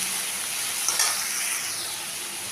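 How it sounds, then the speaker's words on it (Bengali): Two large chopped tomatoes fry with onions in a pan, giving a steady, moderately quiet sizzle with a faint stir or scrape near the middle and no voices. "দুটো বড় সাইজের টমেটো কুচি করে দিয়ে দিলাম একটু ভেজে নেব নরম হওয়া পর্যন্ত ভেজে নেব"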